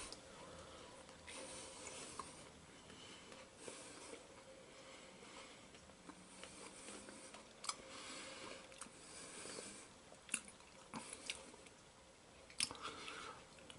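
Chewing on a French military ration coffee energy bar, soft close-up munching and small crunches repeating for over ten seconds, faint and alone without talk.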